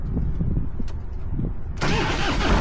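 A carbureted Harley-Davidson motorcycle, choked and primed with three throttle twists, turns over with a low, muffled crank, then catches about two-thirds of the way through. It bursts into a loud, rough, close-up idle rumble with no voices.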